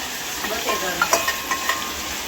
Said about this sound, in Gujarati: શાક વઘારતી હોય એવું લાગે છે